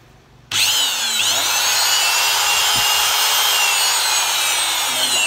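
A Hitachi 600W, 100V variable-speed electric drill, a Japanese domestic-market tool, starts up after a brief quiet moment and runs steadily with a loud, high whine that holds at a constant pitch to the end, with no speech.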